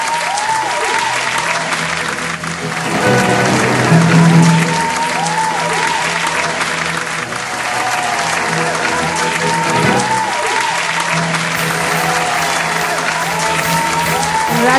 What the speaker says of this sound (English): I think we should keep clapping for them